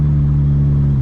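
A Mazda RX-8 rotary engine hums in a steady, loud, even drone while downshifting, holding a constant pitch for just over a second with no voices.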